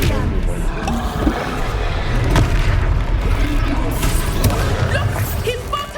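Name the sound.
Expelliarmus spell blast from a Hogwarts video game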